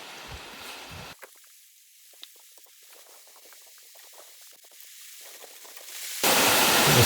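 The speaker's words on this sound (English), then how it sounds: "It's starting to pour here, which I'm sure you can hear." Heavy rain pours steadily outdoors beside a workbench, a soft hiss that swells into a loud, dense roar near the end, with a few faint knocks partway through.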